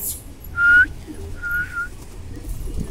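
Pigeons being fed millet grain in the morning, with a couple of short whistling coo-like calls rising over a low steady background rumble, close and moderately loud.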